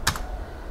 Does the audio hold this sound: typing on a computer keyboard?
yes